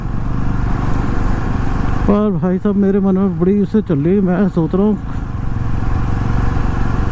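Motorcycle engine idling steadily through a hot Delhi day, a loud continuous low rumble throughout, while someone speaks over it for several seconds in the middle.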